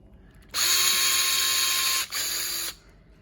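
A power drill turning a tap to cut threads whines steadily for about two seconds, briefly dips, then runs again before stopping; loud and close, with no talking.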